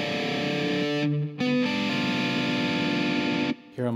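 A heavily distorted electric guitar plays a dark, dissonant diminished lick, sustained notes ringing out with a couple of brief cutoffs between phrases.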